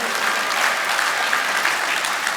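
Dense, loud applause from a hall audience welcoming union representatives at a Daejeon-Sejong construction union general meeting, a brief, continuous roar of clapping hands with no speech over it.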